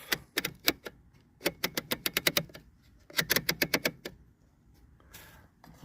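Switch-type UHF tuner on a retro Magnavox color television clicking through detents in quick bursts of sharp, close, mechanical ticks, with short pauses between runs.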